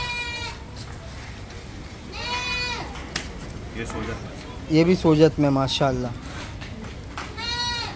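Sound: Sojat goats bleating on a goat farm

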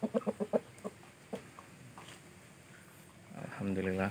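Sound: ayam ekor lidi rooster clucking

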